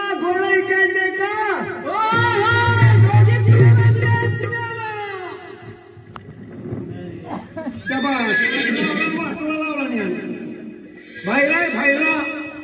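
During a Konkan Naman folk performance, a man imitates a horse's neigh with long, loud, wavering whinnying calls, repeated in bursts with pauses between, close up.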